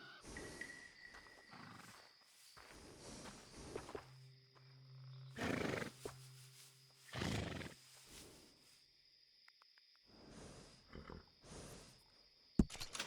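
A horse in the Red Dead Redemption 2 game snorts and whinnies in a few short bursts, interspersed with quieter stretches and faint hoof clip-clops, with a steady tonal background hum.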